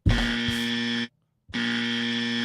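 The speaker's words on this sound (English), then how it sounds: "it's the buzzer" An electronic buzzer sounds on a live-stream show, two loud sustained harsh tones separated by a brief silence, heard alone and close.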